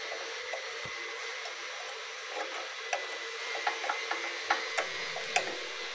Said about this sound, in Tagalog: Pwede na natin siyang luwagan gamit ang spanner.